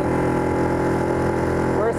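A Mercury/Tohatsu 6HP outboard motor runs at full throttle on a jon boat, a loud steady drone with a sustained even pitch throughout, close by and continuous, with a brief wavering shift near the end.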